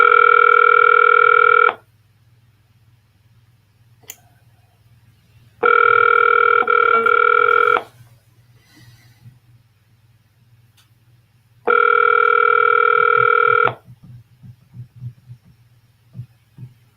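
A telephone rings back three times, each tone lasting about two seconds with long silent gaps between, heard through the line while a call is being transferred.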